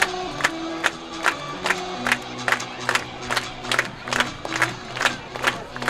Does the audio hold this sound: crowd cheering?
yes